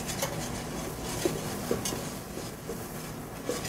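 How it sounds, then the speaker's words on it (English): Flour whisked into melted butter for a roux in a pan, a faint steady rubbing swish with a few light metallic taps of the whisk, close and quiet. "take your flour and whisk it in"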